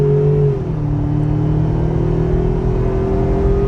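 A 2019/2020 Ford Ranger's engine revs under about a quarter throttle with a throttle response controller fitted, a loud, close, sustained drone whose pitch dips briefly and then holds steady, with no talking over it.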